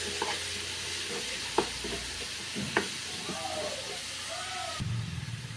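Minced bird meat stir-fried with holy basil in a home kitchen, a close steady sizzle with sharp scraping stirs of the spatula at irregular intervals.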